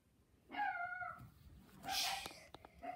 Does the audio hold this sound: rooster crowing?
no